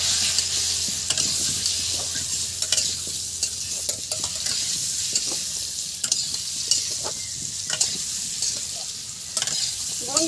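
Potatoes frying in oil with turmeric for a chicken curry, a steady close hiss of sizzling with occasional scrapes and taps of a stirring spoon against the pan throughout.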